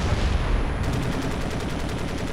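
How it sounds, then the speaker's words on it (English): Gunfire in the first-person shooter Crysis, steady loud rapid automatic fire with a dense, continuous rattle throughout, no talking. "What's this fucking shooting?"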